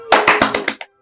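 A short burst of about six sharp, evenly spaced hand claps welcomes performers at a gala stage show, loud and close, then stops abruptly.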